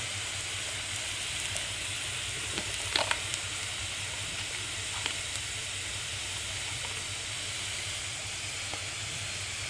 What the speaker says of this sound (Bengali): রসুনটা প্রায় ভাজি হয়ে এসছে